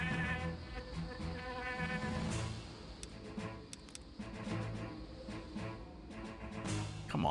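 Buzzing bees in the Septerra Core video game battle, a continuous droning hum layered with game music and effects, steady and fairly loud with a few sharp clicks.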